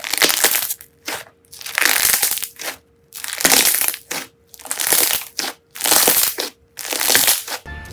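Foaming slime, a homemade dense fluffy putty, is squeezed and kneaded in repeated bursts, each press giving loud close crackling and popping of collapsing bubbles, separated by brief pauses.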